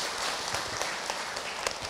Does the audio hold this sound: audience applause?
yes